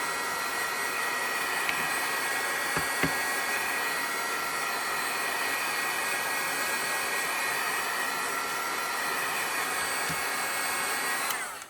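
A hair dryer blows steadily on a painted art surface for the whole stretch, a constant loud broadband whoosh with a few faint clicks and knocks, cutting off at the very end.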